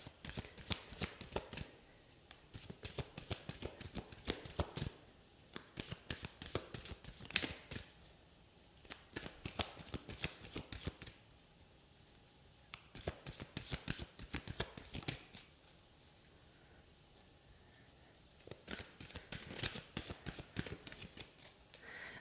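Tarot cards are shuffled by hand in repeated bursts of quick riffling and sliding, close and fairly quiet, separated by short pauses, with no talking.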